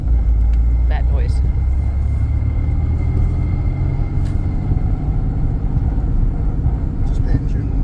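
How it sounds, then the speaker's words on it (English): Engine of a Porsche 930 Turbo running steadily with a low rumbling drone and some transmission whine, continuous and fairly loud throughout, with people talking over it now and then. "Just engine. Bit of transmission noise."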